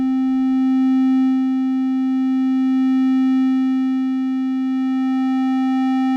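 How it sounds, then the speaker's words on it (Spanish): A steady synthesizer triangle-wave tone holds one pitch as distortion is applied, sustained and loud, rich in evenly spaced harmonics, playing alone without voices. "Estoy viendo el triángulo y comenzamos a aplicar esa distorsión."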